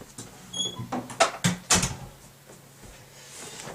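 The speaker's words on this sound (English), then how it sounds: "let me just close my door" A room door swings shut with a burst of handling noise, a couple of solid knocks and a latch click close by, then quiet room tone, with no talking.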